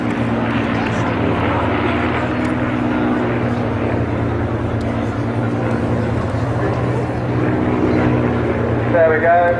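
Vintage aircraft of the Battle of Britain Memorial Flight making a flypast at the Goodwood Revival, a sustained propeller-engine drone with steady tonal hum under a crowd.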